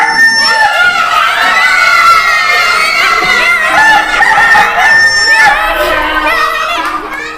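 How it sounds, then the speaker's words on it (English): A rooster crows loudly and up close in a classroom listening game, with a long rising and falling call that fills the whole stretch, overlapped by clucking and crowd noise. "That was the sound of rooster or cock."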